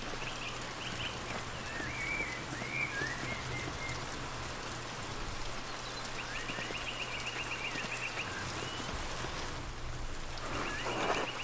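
Steady rain in the Pentiment video game, a soft continuous patter and hiss with a low hum beneath and faint chirping touches above.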